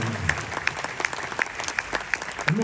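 Audience applause for firefighters on an Italian stage show, a steady crowd clapping with sharp individual claps standing out, moderately loud and continuous throughout.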